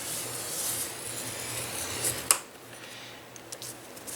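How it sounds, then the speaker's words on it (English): A paper card is scored along a score line, giving quiet, close rubbing and rasping strokes followed by a sharp tap and a few faint light scrapes. "you're going to turn it and you're going to score at 1/2 inch"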